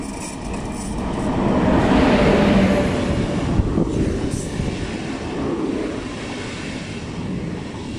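A DB class 103 electric locomotive pulls into Köln-Messe/Deutz station, a broad rising rumble and rail roar that swells early, then settles into a steady rolling drone with a brief clank midway.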